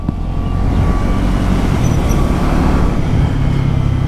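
Triumph Tracker 400 motorcycle ridden in second gear on a road, giving a steady, loud rumble with continuous wind and road noise and no speech.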